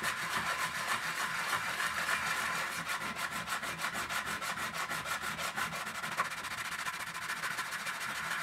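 Wet sandpaper rubs over filler covering holes in steady, rhythmic back-and-forth strokes, close and fairly loud, continuing without break.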